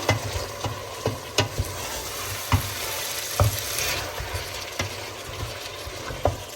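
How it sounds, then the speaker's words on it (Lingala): Tomato paste is stirred in a pot over a steady background sizzle, with intermittent knocks and scrapes of the spoon against the pot, close and moderately loud without speech. "Obalisa mbala moko."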